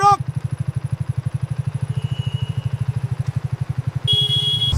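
A motorcycle engine idles loudly and close by with a steady, rapid low thumping pulse, stopping near the end as a brief tone sounds.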